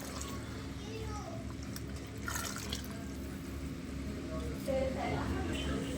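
Water boiling in a pot while making mutton biryani gives a steady, close bubbling hiss with light dripping textures throughout.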